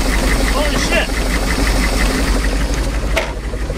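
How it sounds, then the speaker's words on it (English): A big block boat engine idles after years of sitting, a loud, close, steady knocking rumble with rhythmic pulses; people talk excitedly over it. "Idling! It's idling! Just like that!"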